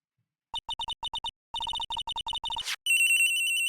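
A cell phone rings in the video game Ace Attorney 3: quick clusters of bright electronic beeps in a rhythmic pattern, then a rising sweep and a sustained, loud tone, alone with no talk.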